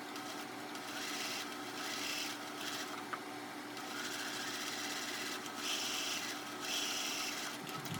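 Sewing machine running steadily as it stitches down a folded-over flap at the hem of a shirt, a continuous close whirring hum with slight surges in speed, no voices.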